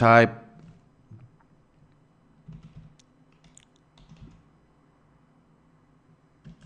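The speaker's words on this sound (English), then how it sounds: "And inside the alert box, we're going to type single quotes." Sparse, faint keystrokes as JavaScript code is typed on a computer keyboard, coming in small irregular bursts after a brief louder sound at the start, with long quiet gaps between.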